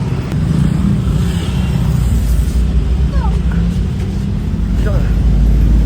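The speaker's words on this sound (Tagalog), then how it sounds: "Sakay na po kami ng jeep." A jeepney engine rumbles continuously from inside the moving vehicle, a deep steady drone with a few faint squeaks, while people talk over it.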